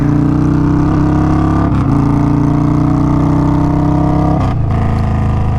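An Indian Scout motorcycle pulls away from a standstill in second gear with a loud, steady, close engine drone that holds nearly level throughout and carries no talking.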